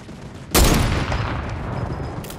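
A turret in the Fortnite video game fires a sudden, loud burst of rapid gunfire. The shots blur into a dense rattling roar that continues steadily to the end.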